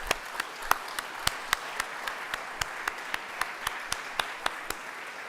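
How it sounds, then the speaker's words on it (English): Applause for sponsors at a forest benefit gala, a soft distant wash of clapping with one or two louder nearby claps ringing out in a steady rhythm throughout. "please, a round of applause for the Van Necks."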